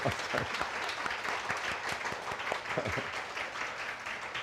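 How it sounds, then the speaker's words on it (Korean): A church congregation gathered for Sunday worship claps in welcome, a steady, moderately distant patter of many hands with individual claps standing out, continuing evenly throughout. "우리 목사님 사모님 또 함께 예배하게 되셨는데 박수로 환영하겠습니다."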